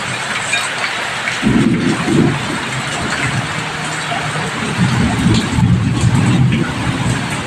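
Thunder rolls in long, low rumbles over a steady wash of rain in a village, the downpour hissing continuously throughout.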